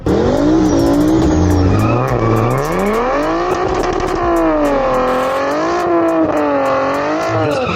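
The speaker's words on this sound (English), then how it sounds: "The burnout was amazing. I got smoke coming out." An upgraded-turbo Nissan Z drag car does a burnout, the engine revving loud and near with rising and falling pitch as the tires squeal and skid, continuous for several seconds.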